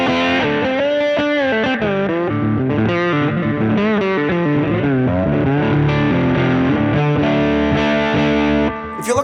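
Lap steel guitar played through its pickup on a clean tone setting, though with an effects unit in the chain; sustained sliding chords and melodic lines ring loudly and continuously, with no talking over them.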